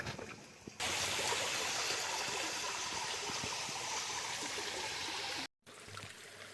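Clear drinking water flows at a village water source in a natural setting, a loud, close, constant rushing trickle that starts abruptly and briefly cuts out near the end.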